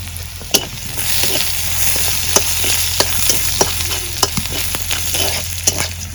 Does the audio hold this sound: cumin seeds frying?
yes